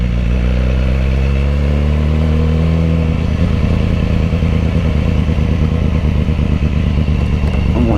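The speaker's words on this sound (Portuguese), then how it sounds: "A S1000, ela faz um barulho no motor." BMW S1000RR motorcycle engine running close by, a loud deep idle that shifts into a rougher, rapid mechanical rumble and stays strong throughout.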